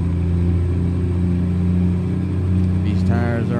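A Peterbilt day cab truck engine in a driving game, a steady low diesel drone that shifts pitch near the end as it downshifts, with someone talking over it.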